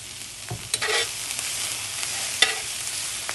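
Beef browns in a cast iron skillet with a steady sizzle, close and moderately loud, broken by scraping stirs and a sharp clank or two of a utensil against the pan.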